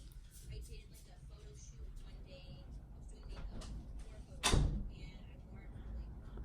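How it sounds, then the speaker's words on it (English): A door closes indoors with one sharp, fairly close thump amid ongoing talk and low room noise. "I had to close my door"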